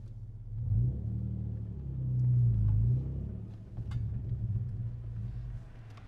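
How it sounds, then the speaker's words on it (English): Infiniti G37 Coupe with a manual transmission pulling away in first gear, with a low engine rumble that swells twice as it revs gently, heard from inside the car with no talking. "Once the car is rolling, you can get off the clutch pedal all the way."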